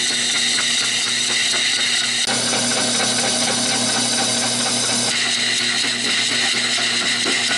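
A wood lathe turns a cherry bowl while a tool cuts away the tenon on its bottom, giving a steady scraping, whirring tone with a brief catch partway through, loud and continuous with no talk.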